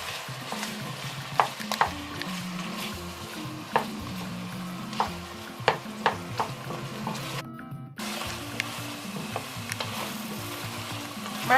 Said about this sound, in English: My chopped tomato too is cooked together with the onion and my meat.